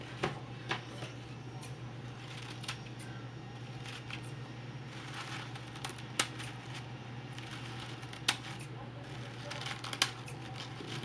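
Scissors trimming coffee filters on a wreath, a series of scattered, sharp little snips over a steady low hum, fairly faint and close.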